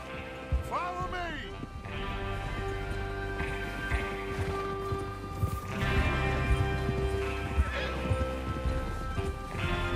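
Horses whinny and hooves clatter in a busy rush amid ambient game-like music in Red Dead Redemption 2, with several neighs breaking through the steady thud of galloping.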